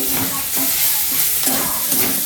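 Banana flower being stirred with chili powder and sugar in a hot pan, a steady sizzle with soft scraping strokes of the spoon repeating every half second or so, close and alone.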